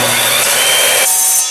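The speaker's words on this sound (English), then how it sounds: "we're gonna start by cutting metal" A power saw cutting metal in a workshop, a loud continuous harsh grinding cut lasting the whole moment and easing slightly toward the end, with no talking.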